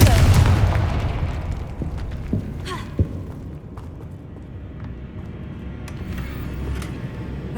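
A Confringo fire-blast spell in Hogwarts Legacy goes off in a loud, booming burst that fades away, followed by scattered sharper pops and impacts in the game's background.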